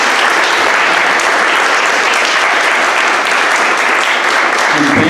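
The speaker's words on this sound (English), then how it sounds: "give her a round of applause that she can hear out there" Audience at an event in the Duwamish Longhouse breaks into sustained, loud, dense applause that runs steadily throughout without a break.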